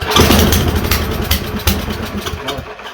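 A small MTD snowblower engine runs loud and close, sputtering and surging unevenly before easing off at the end, with no voices.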